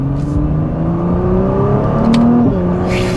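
A 2021 Nissan GT-R Premium engine revs while driving in manual mode, a loud, close, rising engine note that climbs steadily, breaks briefly at a shift, then continues building, with no talk over it.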